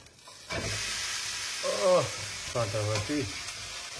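A chilla pancake sizzles in hot oil in a pan after being flipped, a steady frying hiss with a few brief scraping bursts, close and moderately loud.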